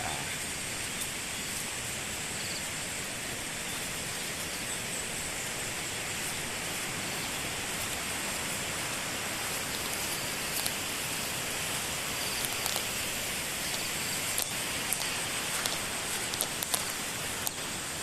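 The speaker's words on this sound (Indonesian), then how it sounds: "sudah mulai terdengar kan air sungainya" Steady rushing of a river flowing past rice fields in the morning, a continuous broadband hiss close by, with a few faint clicks near the end.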